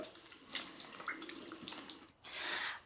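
Water splashing as a face is rinsed over a basin, a close, soft run of trickling and splashing that breaks off briefly before a final gush, with no talking.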